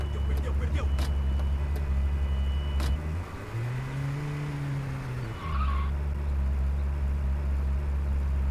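A car arrives in a video game, its engine droning steadily and then dipping into a rising, falling tire squeal, with a voice talking over it.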